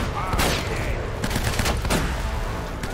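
Gunfire from Navarro's men in Uncharted: Drake's Fortune, a dense, loud barrage of overlapping shots and ricochets, steady throughout, with a voice talking faintly underneath.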